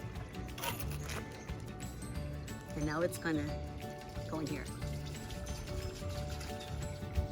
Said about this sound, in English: And you can hear the water flowing.